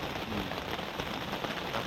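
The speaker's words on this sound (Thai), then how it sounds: "ฟังเสียงฝนตกไปด้วยนะครับผม" Steady rain patters and hisses on a shelter beside a stream at night, a dense continuous wash of drops heard close up with no voices.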